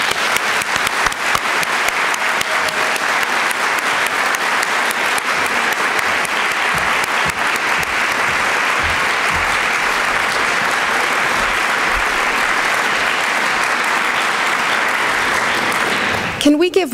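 A graduation awards ceremony audience gives sustained applause for an outstanding graduate award, dense and loud clapping from a large crowd that holds steady throughout and stops abruptly near the end.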